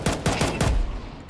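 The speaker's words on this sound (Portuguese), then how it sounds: "o que, que é esse tiro da K" Rapid gunfire from a rifle in Counter-Strike 2 deathmatch, a quick burst of several loud sharp shots in about a second with no talk.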